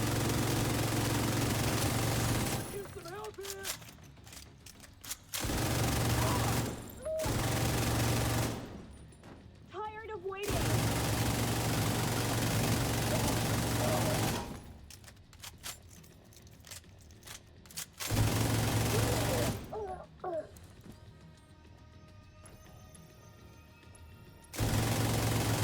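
Long bursts of sustained automatic gunfire from a video game, loud and continuous stretches broken by short pauses, with background game hum.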